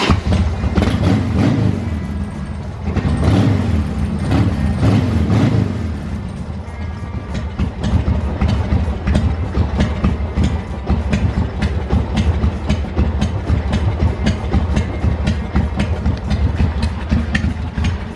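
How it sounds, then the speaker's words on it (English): A 1988 Harley-Davidson Sportster 1200 motorcycle engine runs cold at idle, close and loud, with a steady rapid lumpy thumping throughout and a brief surge in level partway through, no talking. "we'll fire it up, give you guys a little sound check of the Harley Sportster 1200"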